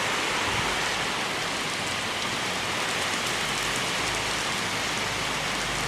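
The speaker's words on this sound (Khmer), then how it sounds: "មេឃកំពុងតែភ្លៀងខ្លាំងមែនតើ" Heavy rain falling outdoors, a dense, even roar of drops hitting surfaces, loud and unbroken throughout with no voices.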